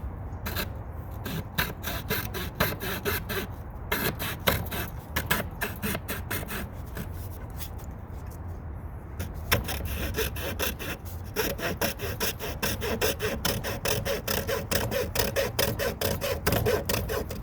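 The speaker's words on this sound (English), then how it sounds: "You need a coping saw to do this, to make a turn inside like that." A coping saw cuts a curved line through wood in steady back-and-forth strokes, rasping close and loud with short pauses between runs of strokes.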